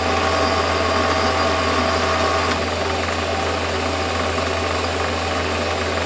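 Metal lathe running while turning a part for a fire piston, a loud steady motor hum and drone with a constant mechanical whir and no pauses, close by.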